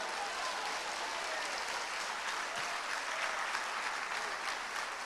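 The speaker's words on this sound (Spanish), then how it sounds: "Un aplauso al Señor" Steady, sustained applause from a church congregation during a Spanish-language evangelical sermon, dense and even throughout with no voices standing out.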